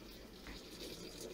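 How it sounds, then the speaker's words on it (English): Pokeweed leaves (poke sallet) submerged in a pot of water at a steady boil on a home kitchen stove, giving a faint, continuous watery bubbling and hiss with no voices. "It is still boiling."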